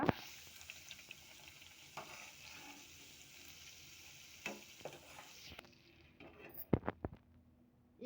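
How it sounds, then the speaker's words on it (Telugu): Bread slices fry in a pan for double ka meetha, giving a faint, continuous sizzle with a few clinks and scrapes as pieces are turned, and the frying fades out near the end. "ఇది ఫ్రై అయిన తర్వాత ఇలా గోల్డెన్ కలర్ వచ్చేటప్పటికి దీన్ని తిప్పేసుకోవాలన్నమాట"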